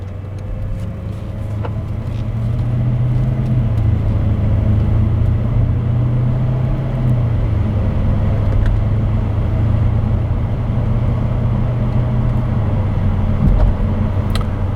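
A 2007 Mercedes SL550 pulls away from a standstill, heard from inside as a steady low engine and road rumble that builds and holds, with a few faint clicks and no speech.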